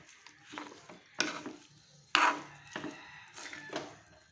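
Banana stem and jackfruit seed stir-fry being mixed in a pan, soft irregular scrapes and clinks of a spoon against the pan, fairly quiet with a few louder strokes.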